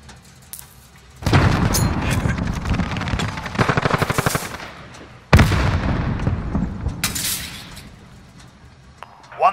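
In a multiplayer video game match, two loud bursts of rapid automatic gunfire and explosive booms erupt close by, each lasting a few seconds with rattling repeated shots, separated by a short lull and fading out at the end.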